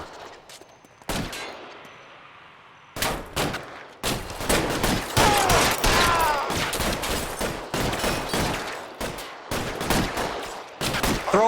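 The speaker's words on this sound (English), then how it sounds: "oh shit, shootout." Gunfire from a shootout in the video game L.A. Noire: loud, dense bursts of repeated shots broken by brief pauses, continuing for several seconds with scattered sharp cracks.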